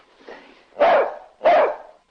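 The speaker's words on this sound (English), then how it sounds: "Well, I haven't heard Corky bark in ages" A dog barks in a 1952 film noir: a faint first bark, then two loud, close barks spaced about half a second apart.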